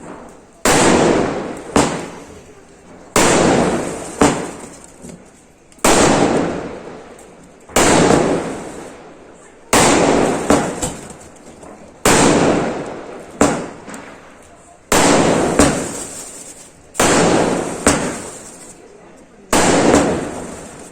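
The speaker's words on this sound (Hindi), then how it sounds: "अब हम लोग पटाखे छोड़ेंगे" Diwali firecrackers and fireworks go off from neighbourhood rooftops, with loud, close bursts repeating at a steady pace of about one every two seconds, each followed by a short crackling decay.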